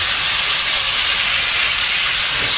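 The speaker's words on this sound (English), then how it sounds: "it's basically frying in here in its own fat and that roasted garlic oil." Chicken frying in its own fat and roasted garlic oil for a mole, giving a loud, steady hiss of sizzling that holds unbroken throughout with no talk.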